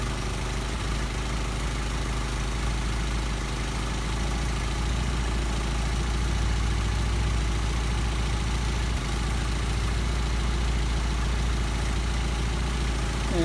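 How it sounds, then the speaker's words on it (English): A car engine fitted with Solex 44PHH carburetors idles at about 700 rpm while its idle speed is adjusted, producing a steady, unbroken low drone. "So I'm going to adjust your idle speed."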